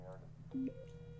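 A brief incoming-call tone from the 911 Operator emergency dispatch game: a few short electronic telephone beeps, quiet, with one steady tone held near the end.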